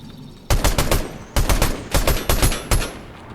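Bursts of rapid automatic gunfire in Fortnite, loud and close, come in several clustered volleys separated by short pauses.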